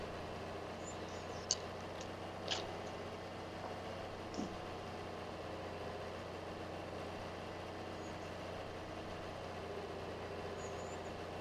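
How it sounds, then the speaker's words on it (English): An old 4020 tractor engine runs at a steady, even drone in a grass field during haying, holding constant throughout with a few faint clicks on top. "Get to use the old 4020 that we've now had for many years. It's an excellent tractor for grass work like this."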